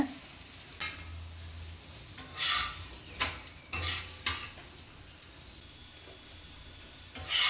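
An egg-stuffed chapathi being flipped and pressed on a hot pan, with a soft sizzle underneath and several short scraping bursts from the spatula spaced irregularly, close and fairly quiet.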